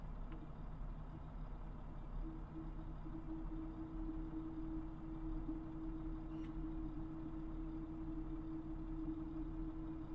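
Steady low whirring hum of a train engine in a train simulator game on the West Coast Main Line, a faint continuous drone with a constant tone throughout.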